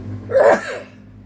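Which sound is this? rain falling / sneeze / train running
sneeze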